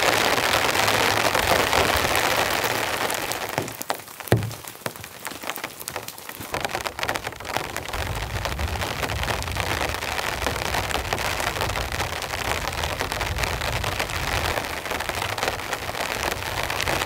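Heavy rain pelts a camping tent in a dense, unbroken hiss and patter that stays loud almost throughout, easing briefly for a couple of seconds partway.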